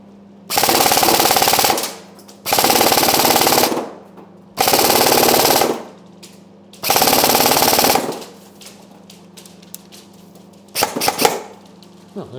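HK416-FS rifle firing on full auto in four sustained bursts of rapid gunfire, loud and close, separated by short pauses, followed by a few faint metallic clicks and rattles as the magazine runs empty.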